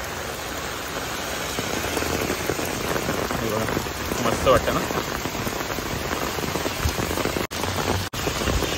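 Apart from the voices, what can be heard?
heavy rain on an umbrella in Mumbai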